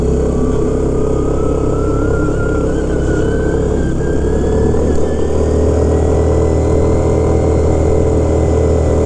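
An MSA 400 engine runs continuously up close with a loud, steady drone and a slowly rising whine.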